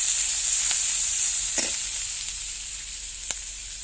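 Onion-garlic paste and green chillies fry in oil over a newly built village stove, producing a steady, close sizzling hiss broken by a few sharp stirring clicks.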